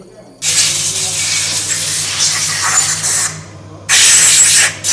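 Fuel injector from a Suzuki Gixxer SF 250 motorcycle spraying fuel under a pressure test, submerged in alcohol, gives a steady broad hiss for most of the clip, pausing briefly before a loud second burst, with a low hum beneath.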